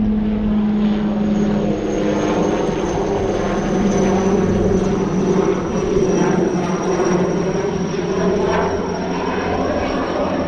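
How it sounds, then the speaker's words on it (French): A helicopter flies overhead above a nature reserve with ponds, its rotor thrum loud, steady and continuous, with no talk over it. "Et il y a un hélico qui arrive."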